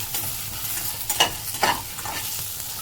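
Tamarind, ginger and Guntur chillies fry and get stirred in a pan for Andhra-style pachadi, with a steady low sizzle under a few louder scraping stirs. No voices are heard.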